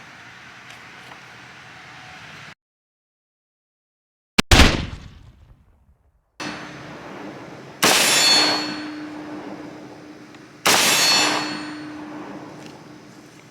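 Short-barrel AR pistol with a binary trigger fired outdoors at a range: a few loud, sharp cracks, each with a ringing concussive decay, spaced seconds apart over a steady background hiss.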